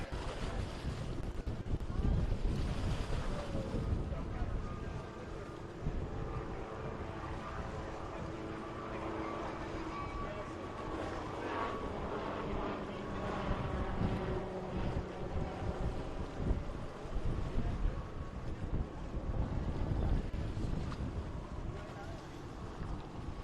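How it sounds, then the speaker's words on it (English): An MTI 39-foot racing catamaran with 450R engines runs flat out at a powerboat race on Lake of the Ozarks, a loud continuous roar with heavy wind buffeting the microphone and water noise, sustained throughout. "Trying to get everything she can out of that MTI 39-foot catamaran."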